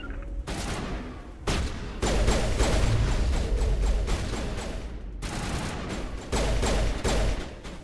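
Sustained squad gunfire in the Mass Effect video game, rapid overlapping bursts of shots with brief pauses, loud and close, several weapons firing together.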